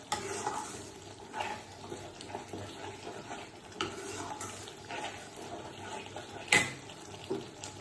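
Salt-and-sugar water left from soaking paneer is poured into a pan, giving a steady wet sizzle and stirring scrape, with a sharp metallic clink near the end.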